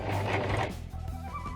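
A sewing machine stitches a dress lining, its motor whirring and needle mechanism ticking in a steady mechanical rhythm, loud and close, with no talking.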